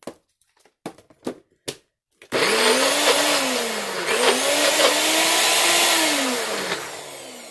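A blender whirs through a spicy vegan black bean burger mixture, starting after a few short clicks and taps, then running loud and steady with the motor pitch dipping and rising as the thick mix catches, easing off at the end.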